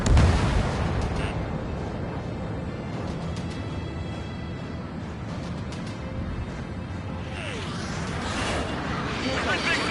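Missile launches and heavy explosions in a jet combat video game rumble continuously and loudly for the whole stretch, with dense booms and bursts layered under game radio chatter.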